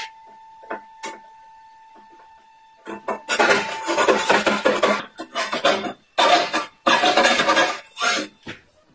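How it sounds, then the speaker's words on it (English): A hacksaw blade, held by hand, cuts corners in a metal control panel. A few short taps come first, then bursts of harsh rasping strokes in quick rhythm with brief pauses between them. The sawing is close and loud. "I just use the blade out of a hacksaw."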